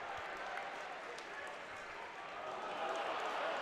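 A basketball arena crowd reacts to a player falling on the far side of the court, a broad steady roar that swells slightly toward the end, with commentary under it.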